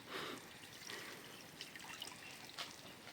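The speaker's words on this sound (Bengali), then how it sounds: "ছোট্ট এখন ডালির চারার উপরে আপনার জল দিচ্ছে" Water poured onto young chili seedlings in a garden bed, a soft steady trickle and dribble running for a few seconds, quiet and close, with faint splashes and no talking.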